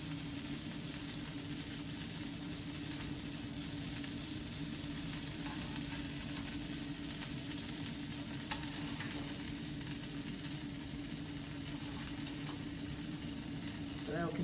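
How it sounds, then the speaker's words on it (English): Meatballs gently sizzling and bubbling in a mushroom sauce in a pan, a steady close frying hiss with soft pops throughout, no talk over it. "We're going to add them to our sauce. And let them slowly bubble away in that."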